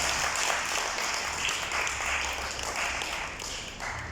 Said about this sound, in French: je vous demande tous, s'il vous plaît, d'applaudir l'IFM et l'ambassade de France en Maurice